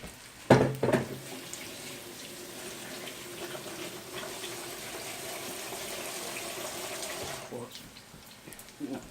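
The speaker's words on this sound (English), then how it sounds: "I was going to wash my hands in this bowl." Hands washed in a bowl of water at a kitchen during a tuna cake recipe: a sharp splash and clatter at first, then a steady running-water rush that stops near the end.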